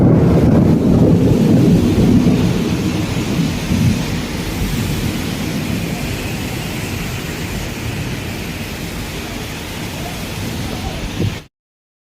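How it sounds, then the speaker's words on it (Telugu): Torrential monsoon rain lashing a housing colony in Kollur, a loud steady roar with wind buffeting the microphone and heavy rumbles of thunder, cutting off sharply near the end. "మస్తు ఘోరంగా అయితే వాన పడుతుంది."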